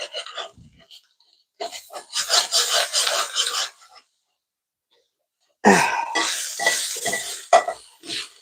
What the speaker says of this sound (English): I heard that you're supposed to scrape that stuff and make sure you pick it up. So I'm just gonna scrape that.